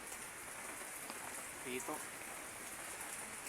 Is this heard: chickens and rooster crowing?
no